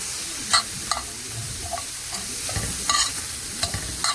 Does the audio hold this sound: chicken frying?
yes